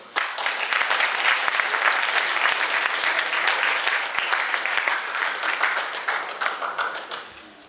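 An audience at a senior thesis presentation applauds to welcome a presenter, a loud, sustained burst of clapping that fades toward the end.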